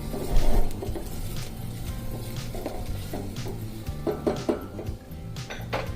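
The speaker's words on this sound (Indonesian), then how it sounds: "Oke, ini akan kita aduk sampai harum." Shallots, garlic and onion frying in oil in a pan while a utensil stirs them, giving repeated scraping clinks of metal on the pan over a soft background sizzle, close and moderately loud.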